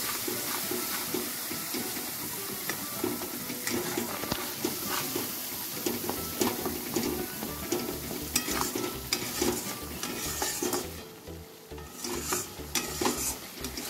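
Spices with a pinch of black pepper stirred and fried in a pan for rohu fish korma, a steady dense sizzle and hiss with continuous close scraping of a spoon through the mixture.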